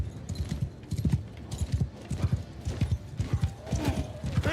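In the video game Warsails, rapid hoof clip-clops of galloping horses drum on continuously, with an occasional whinny and faint shouting in the background.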